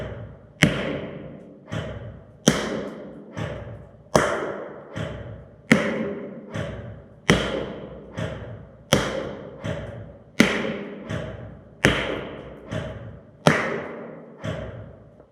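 A Cyma P90 airsoft gun fires about ten single shots at a steady rhythm of roughly one every 1.6 seconds. Each shot is a sharp, close thwack with a short decay, and no voices are heard.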